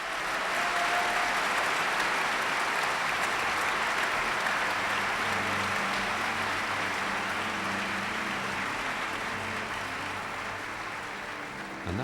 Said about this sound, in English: There he is now, acknowledging the rapturous applause with Margareta Elkins, Clifford Grant, Erich